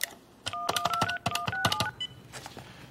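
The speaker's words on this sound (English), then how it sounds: "I'm gonna make a phone call, but it's not a real phone call" Crank-call phone number being dialed on a telephone keypad, a quick run of about eight to ten distinct DTMF tone beeps in uneven bursts, close and clear, with a little faint background noise before a ringing starts.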